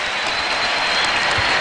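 Basketball arena crowd in Philadelphia during a Spurs at 76ers game, cheering and applauding in a steady, loud roar of many voices throughout, with no talk over it.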